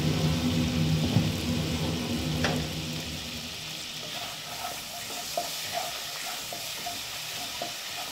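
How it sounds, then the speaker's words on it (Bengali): Spice paste sizzles steadily in hot oil in a pan for a coconut-milk pointed gourd curry, a dense frying hiss that settles into softer crackles and small pops, with no one talking. "মশলাটা ভাজা হয়ে গেছে, মশলার থেকে তেল ছেড়ে দিয়েছে।"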